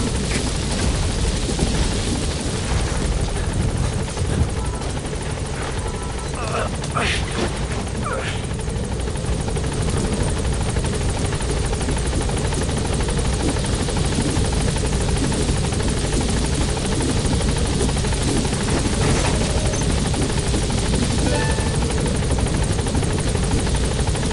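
The Pequod helicopter in the video game Metal Gear Solid V hovering near a landing zone, a loud, steady rotor thrum and whine filling the scene, with a few brief bursts of distant gunfire partway through.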